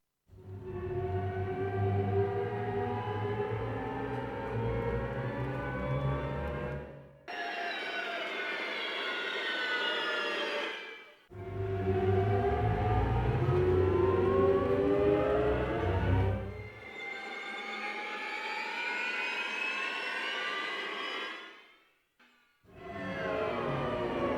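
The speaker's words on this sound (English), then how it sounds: "Having this level of control over the sound of string glissandis is wonderful." Orchestral string section from the VSL Synchron FX Strings library playing sweeping glissandi, with slow rising and falling slides in low and high registers, in loud sustained phrases separated by brief silences.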